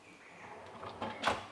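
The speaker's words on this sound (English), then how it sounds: "yay, soft closed drawers" A soft-close kitchen drawer in a modern home glides shut with a muted slide and ends in a gentle, cushioned thud, close and moderately quiet.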